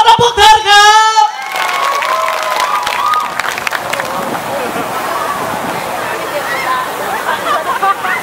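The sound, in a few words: audience applause welcoming Thai brass band performers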